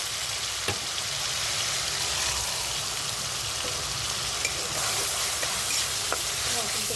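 Onion paste fries in hot oil, a steady loud sizzle and crackle that holds constant throughout with occasional small pops.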